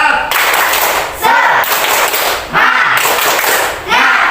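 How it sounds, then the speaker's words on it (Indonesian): A classroom of children performs a spirit clap, loud patterned bursts of clapping in rhythmic groups separated by brief pauses, with young voices chanting along close by. "Tepuk semangat"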